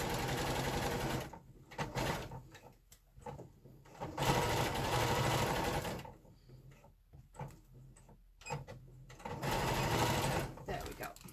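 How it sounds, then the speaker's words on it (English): A sewing machine runs in several bursts while a backward stitch is sewn on a fabric chicken pincushion, the motor whirring loudly near the microphone and stopping in between, with someone talking over parts of it. "I'm going to do a backwards stitch on this one."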